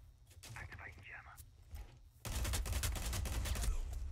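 Gunfire in Rainbow Six Siege starts suddenly as a loud, dense burst after quiet shuffling and whispery sounds, then continues as sharp cracks to the end.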